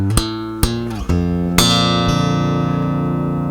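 A song intro on guitar with a percussive pop effect: several sharp plucked attacks spaced apart, then notes left ringing and sustaining, close and clear with no talking.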